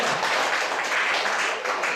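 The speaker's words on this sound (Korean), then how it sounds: "큰 경의의 박수 한번 드리세요" An audience at a franchise-marketing talk breaks into dense, sustained applause, many hands clapping at once at an even level throughout.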